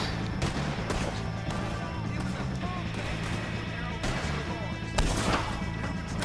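Gunfire in Red Dead Redemption 2 on PS4: sharp broadband shots crack out every second or so amid a busy game mix, with a louder burst near the end and a voice talking throughout.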